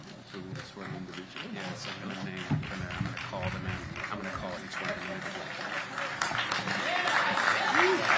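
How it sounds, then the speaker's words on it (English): An audience at the Annapolis City Council swearing-in claps, the applause rising from scattered taps to fuller clapping under people talking in a hall. "It's okay to clap."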